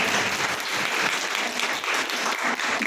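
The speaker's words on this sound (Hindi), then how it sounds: "जरा तालियों का थोड़ा सहयोग देते हैं" Steady applause from an audience at a live poetry recitation, a dense wash of many hands clapping evenly for about three seconds.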